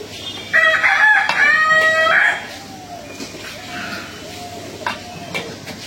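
A rooster crows once, loud and close, a long strained call, followed by softer clucking and faint background noise, on Eid al-Adha.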